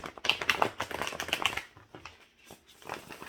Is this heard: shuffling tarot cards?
yes